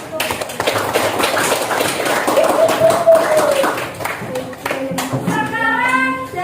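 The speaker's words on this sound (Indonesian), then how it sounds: "kita beri tepuk tangan untuk" A classroom of students claps for classmates after a solid-particle simulation activity, scattered uneven clapping mixed with voices, a teacher talking and a sung or drawn-out tone partway through.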